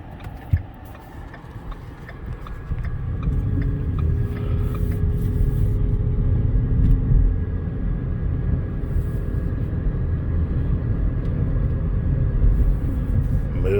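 A 2013 Ford Fusion hybrid SE accelerates on a test drive, a steady low engine and road rumble rising and holding, heard from inside the cabin with faint ticking early on.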